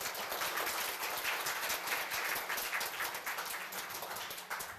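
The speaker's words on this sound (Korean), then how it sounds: "다시 한번 축하의 박수 부탁드리겠습니다" Applause at a Korea University labor culture award ceremony: a steady, dense clapping from a seated audience, sustained evenly for a few seconds without any voices.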